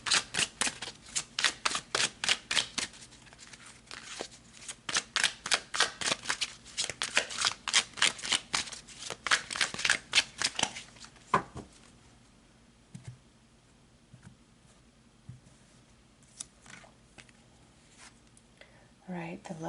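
Tarot cards shuffled in quick, dense riffling bursts for roughly eleven seconds, close and fairly loud, then a few softer scattered card handling sounds and light taps in near quiet.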